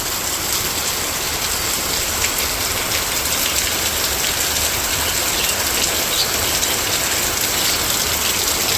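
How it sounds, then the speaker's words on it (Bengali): Heavy rain pours down in a village, a loud, unbroken roar of drops hitting surfaces up close, with no voices. "খুব বৃষ্টি হইতেছে।"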